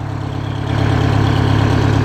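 Freightliner truck engine with weed burners idling, a loud steady low rumble with even rhythmic pulsing, close by and alone.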